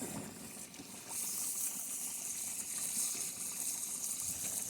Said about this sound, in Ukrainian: Сиплю картоплю.